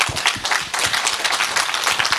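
A church congregation applauding together, a steady wash of many hands clapping at close range for about two seconds with no talk over it.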